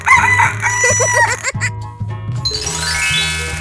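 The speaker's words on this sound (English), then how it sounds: "Chicken." A rooster crows loudly in a 3D animal slide video game, its cock-a-doodle-doo ringing over bright game music, followed by a chiming jingle.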